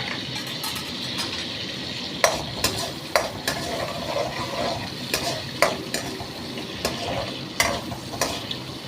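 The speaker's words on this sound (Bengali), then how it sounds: "নরম হতে হতে আমি কাজুটাকে ভেজে তুলে নিচ্ছি।" Cashews frying in butter for a Christmas mutton dish, a steady close sizzle with repeated sharp scraping clicks of a spatula stirring through the pan, no talking.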